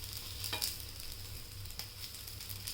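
Bread potato patties shallow-frying in a little oil after being flipped give off a steady soft sizzle, with a couple of brief scraping stirs, and no voices.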